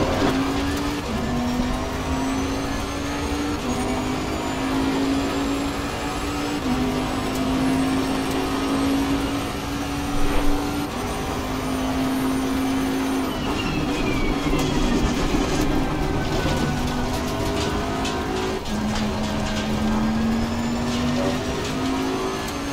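A GT3 race car engine and turbo in Assetto Corsa Competizione, lapping Paul Ricard, gives a sustained loud drone with a whining tonal layer whose pitch steps up and drops through gear changes, with no talking.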